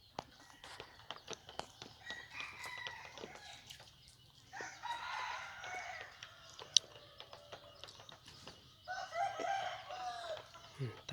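A blind rooster crows twice in long, wavering calls, with soft clucks and scattered scuffling footsteps in between, fairly near in an otherwise quiet outdoor setting.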